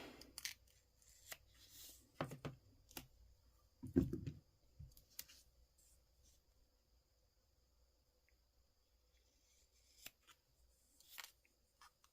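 Excess carbon fiber tape trimmed with a sharp cutting tool during a lighting install, heard as faint, sparse snips and scrapes with a quiet steady hum underneath.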